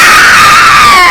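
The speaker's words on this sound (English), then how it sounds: "an old vulture let out such a terrible, ear-splitting scream" An old vulture lets out a loud, ear-splitting scream, a sustained shrill cry that holds steady and close for about a second with no pauses.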